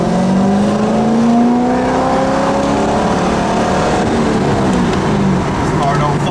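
Corvette sports car driven from inside the cabin, its engine droning loud and steady with rising and falling pitch as it shifts through gears.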